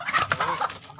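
Chickens clucking close by in a short, busy burst of overlapping calls at a small home-scale chicken farm.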